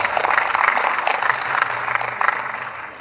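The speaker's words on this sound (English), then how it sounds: "Give him a big round of applause." Clapping at a Diwali gala banquet, a moderate crowd applauding in a few swelling waves over three seconds, somewhat soft and distant with a low hum underneath.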